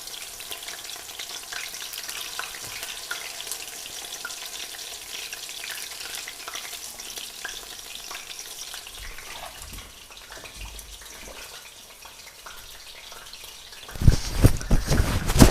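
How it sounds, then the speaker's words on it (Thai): Batter-coated wild garlic leaves deep-frying in hot oil, a steady dense sizzle close by throughout, growing louder and crackling more sharply near the end, with no voices. "ใบกระเทียมป่าทอดแปะชุบแป้งทอดจ้ะ"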